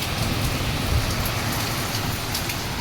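Steady rain pours outside, a dense, loud, even hiss of drops hitting surfaces that continues without a break.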